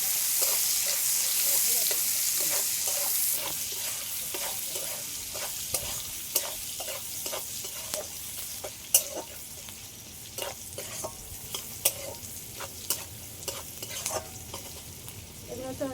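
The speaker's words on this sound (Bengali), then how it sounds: "আর একটু হলুদের গুঁড়ো সবগুলো একসাথে একটু হালকা করে ভেজে নেবো" Spices and turmeric frying lightly in a pan with a pinch of salt, a continuous soft sizzle broken by frequent sharp stirring clicks and scrapes over sixteen seconds.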